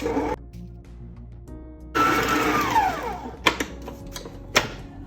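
A mixer kneads tuna pizza dough, its motor whirring loudly after a quieter start, with a couple of sharp clacks near the end and no speech.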